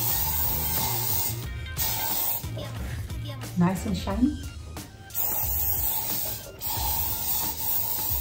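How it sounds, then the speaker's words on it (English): Leaf shine aerosol hisses in a few short bursts over faux and real floral greenery in an Easter arrangement, close and steady, with someone talking briefly between sprays. "So I'm just gonna spray just a little bit and give it that shine."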